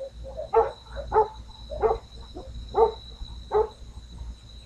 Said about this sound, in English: the dogs barking at every other little sound that they hear